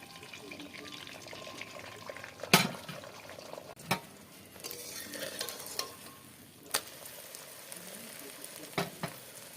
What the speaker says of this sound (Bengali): তেল, এবার আমি ডিমটাকে ছেড়ে দেবো